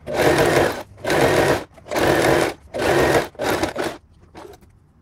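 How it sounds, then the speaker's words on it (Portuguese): A sewing machine runs a second line of stitching along the elastic waistband of teenage pajama trousers, in four loud sustained bursts with short pauses between them and a fainter short run at the end. "Então, vou passar uma segunda costura aqui."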